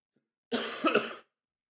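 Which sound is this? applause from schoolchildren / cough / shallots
cough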